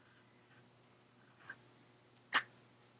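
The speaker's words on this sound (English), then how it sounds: "it's a little bit scratchy on some of the stroke angles" An Opus 88 Demonstrator fountain pen nib scratches across paper in two brief strokes, a faint one followed by a louder, sharper scrape, close and quiet with no talking.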